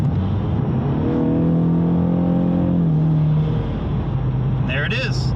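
A Ford Mustang S550 with a 10-speed automatic downshifts, its engine blipping up in a rising rev-matched surge before settling into a steady idle-like hum, heard from inside the car with a voice speaking briefly near the end.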